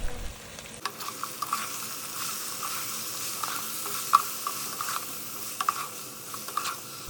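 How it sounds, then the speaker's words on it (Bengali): Chicken sautéing in a pan with cumin, coriander and turmeric powder gives a steady close sizzle. Sharp scraping and clicking strokes from the stirring spoon come at irregular intervals, with no voices. "আরও 2 থেকে 3 মিনিট কষিয়ে গুঁড়া মশলাগুলো দিয়ে দিব"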